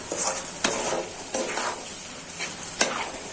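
Masoor dal frying and being stirred in a pan: a steady close sizzle with several sharp scrapes of the spoon against the pan at irregular intervals, no talking.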